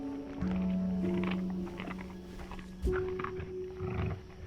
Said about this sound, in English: That's a coyote eating Ernie, I'm pretty sure.